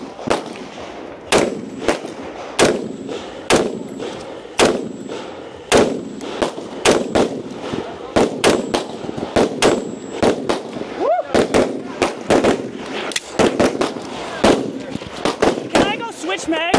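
Rifle shots at a team event stage, loud sharp cracks fired singly and in quick irregular runs across the whole stretch, close by with some echoing.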